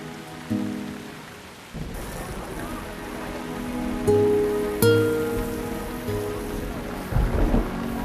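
Rain pours steadily outdoors while washing hangs out to dry, a continuous hiss with a low rumble of thunder and sustained tonal music layered over it.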